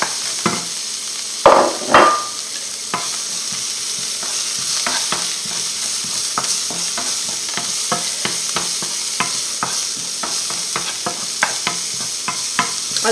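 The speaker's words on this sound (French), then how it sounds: "on prend nos oignons et on va les faire transpirer" Onions sweating in oil in a pan, a steady soft sizzle heard up close with frequent stirring scrapes and a couple of louder knocks near the start.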